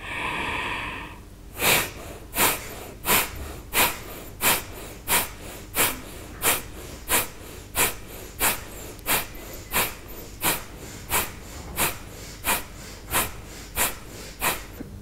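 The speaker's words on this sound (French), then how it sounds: "la respiration du feu" Breath of fire in a kundalini yoga practice: a single person gives about twenty forceful, evenly paced nasal exhalations, close and loud, after a brief held tone at the start, with no talking.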